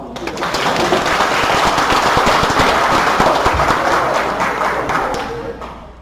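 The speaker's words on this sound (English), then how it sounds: "Everybody give Nick a round of applause." An audience applauds, a dense wash of clapping that swells quickly, holds steady for several seconds, then fades out.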